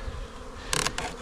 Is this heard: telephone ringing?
no